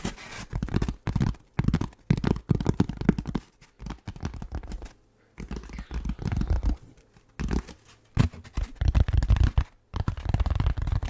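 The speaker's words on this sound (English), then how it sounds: "I haven't tapped on this piece of styrofoam in a while. It's got a nice sound." Long fingernails tap and scratch on a piece of styrofoam close up, producing dense, rapid, bassy clicking and patter in irregular bursts with brief pauses, with no voice.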